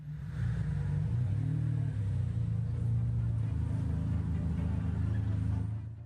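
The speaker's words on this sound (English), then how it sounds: "Now he'll rev it, just to show off." Parked supercar in Monaco with its engine running, a steady low rumble that swells into revving, close and loud and holding for several seconds.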